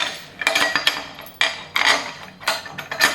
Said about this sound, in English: slide the bolts through